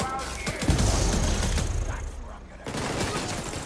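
Heavy enemy gunfire in The Division 2, a loud, continuous barrage of shots that briefly drops off before resuming.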